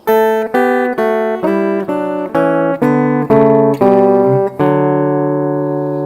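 A picked guitar plays a short harmonized lick in D, two-note chords stepping through eight even notes before a final ringing chord that fades.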